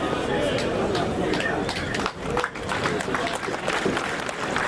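A large outdoor crowd claps and chatters continuously at a party headquarters grand opening, a dense steady wash of applause and voices with a brief dip midway.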